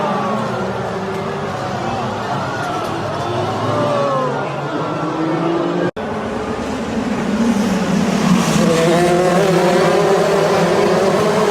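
Pro Mazda race cars crash in a braking zone during a race, with loud continuous engine roar and shifting revs throughout, a brief break midway, and a commentator talking over it.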